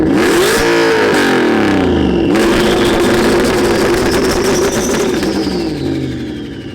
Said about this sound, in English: I've got to say the revving is unreal.